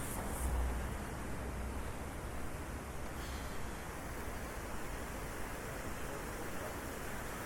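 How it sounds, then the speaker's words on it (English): Heavy rain pouring down in Kansas City, a dense, steady hiss of falling water lasting several seconds at low to moderate level, with no talking. "Rain everywhere. Rain pretty good too."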